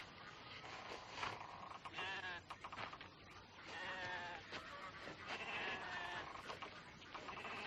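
Several sheep bleat in a series of wavering calls, some overlapping. They sound faint and somewhat distant.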